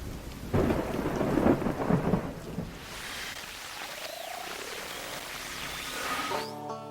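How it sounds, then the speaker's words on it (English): Steady rain patters beneath a heavy roll of thunder that swells loud early, then fades into a softer, continuous downpour. "soon after that, it began to rain"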